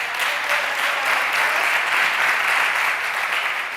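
Conference audience at a big data forum plenary in Valencia breaking into applause, a loud, even roar of many hands clapping continuously with no talk over it.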